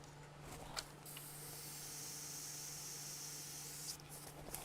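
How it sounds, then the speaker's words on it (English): Airbrush spraying paint onto a Warhammer Age of Sigmar miniature, sputtering from paint dried on the nozzle: a faint, steady hiss with a few small pops and clicks at the start and end, no talking. "this airbrush is a little sputtery because I think I may have let some stuff dry on it"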